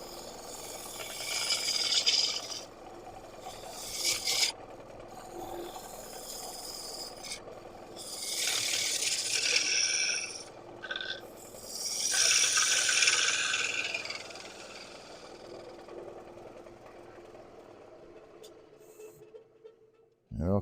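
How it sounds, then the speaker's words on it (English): A woodturning gouge's bevel rubs on a spinning workpiece on a lathe, then cuts shavings in rising, hissing scraping bursts, close up over a steady machine hum, with some quiet talk in between. "I'm now rubbing till I get the whisk of the shaving"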